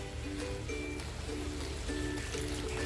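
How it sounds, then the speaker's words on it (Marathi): Water is poured into a pan to make egg masala gravy, a continuous close trickling rush over a faint, steady tonal hum. "पाहिजे तितकं पाणी टाकते म्हणजे ग्रेव्हीसुद्धा तयार होईल"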